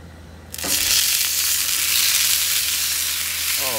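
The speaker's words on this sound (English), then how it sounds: "Oh man, listen to that sizzle." Chicken thighs hit a griddle slicked with olive oil, bursting into a loud, bright sizzle after a quiet moment and holding a steady crackling hiss right up close.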